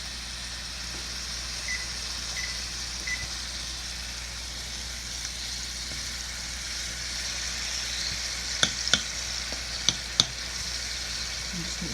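Vegetables sizzle steadily in a hot pan as a home dinner cooks, a constant close frying hiss with a few sharp clicks and taps of utensils near the end, no voices.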